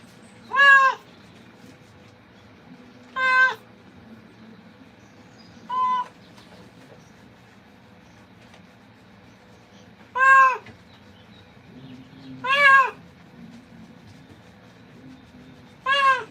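A special needs cat being groomed lets out six loud, drawn-out meows spaced several seconds apart, close to the listener, over a low steady hum of background noise with no talking.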